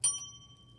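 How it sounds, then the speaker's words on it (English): A single bell strike rings out sharply, its bright metallic ding fading over less than a second above a low background hum. "I was gonna hit the bell"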